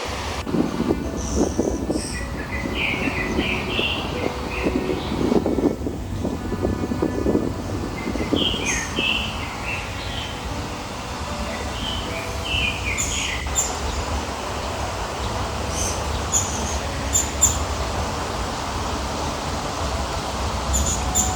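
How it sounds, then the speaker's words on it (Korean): Birds chirp and trill in short bursts against a steady low rumble of wind and distant traffic, with no one talking. "속은 새들이 노래하는 소리"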